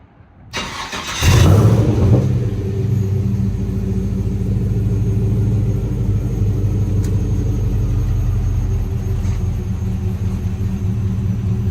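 A 1953 Chevrolet 3100 restomod truck's engine fires up with a push-button start, a short cranking burst followed by a loud, steady low rumble of idle that continues close by to the end.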